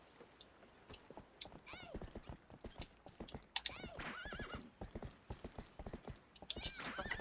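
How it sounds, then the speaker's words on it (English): Rhythmic hoofbeats clip-clop steadily while a horse whinnies and snorts several times in the video game Twilight Princess HD, all fairly close and clear over a faint background hum. "Oh, look, it's my horse."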